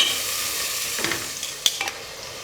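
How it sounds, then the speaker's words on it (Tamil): Tomatoes sauté in a pan with a steady soft sizzle, punctuated by a few sharp scraping stirs of a spoon near the end, no voices. "இதை சேர்த்துட்டு தக்காளி நல்லா மசிஞ்சு வர்ற அளவுக்கு இதை நல்லா வதக்கிக்கலாம்."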